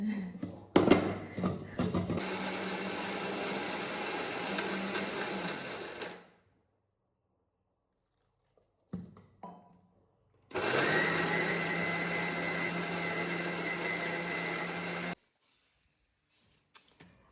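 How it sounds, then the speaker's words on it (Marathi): A mixer grinder grinding spice masala for a fish curry whirs loudly in two long bursts with a short pause between, a steady high-pitched motor drone that stops abruptly. "आता मी हे मस्त वाटून घेते"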